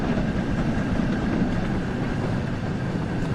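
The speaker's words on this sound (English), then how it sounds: "We are going up an incline. The train is having to work a little bit hard." A steam locomotive on the West Somerset Railway in the video game Train Sim World 4, working hard up an incline, a steady loud rumbling roar with constant low drive and hiss and no distinct breaks.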